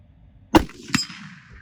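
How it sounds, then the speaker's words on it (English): A .270 rifle firing Monarch ammunition at a target 100 yards away during a deer-hunting ammo test: one sharp, loud report, then a second crack about half a second later as it rings off, with no talk. "My son is about to take a shot."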